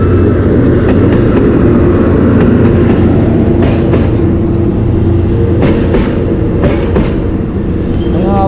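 PNR train rolling past on the railway, loud and close, with a continuous heavy rumble and clattering wheel noise across the whole stretch, no voices.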